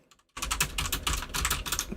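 Rapid computer keyboard typing starts after a brief quiet moment and continues as a dense, close, steady run of clicks with no talking.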